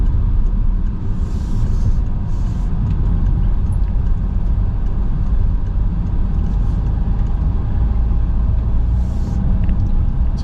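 A car driving through empty Bucharest streets at Easter, giving a loud, steady interior road rumble and engine drone that stays constant throughout.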